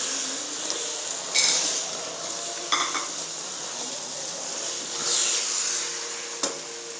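Coconut is stirred into gram dal halwa in a pan, giving a soft continuous scraping and sizzling with a few metallic clinks of the spoon against the pan, close and without talk.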